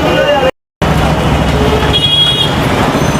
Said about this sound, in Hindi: इस रोड पे आप ट्रैफिक तो देख ही रहे होंगे